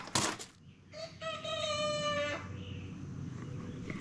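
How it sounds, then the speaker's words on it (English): A rooster crows once outdoors in the woods, a clear mid-distance harmonic call rising and holding for about a second, preceded by a brief sharp knock and followed by quiet ambient background. "that was one of the roosters over there crowing"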